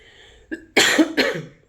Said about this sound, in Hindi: अभी खांसी नहीं होनी चाहिए ज़्यादा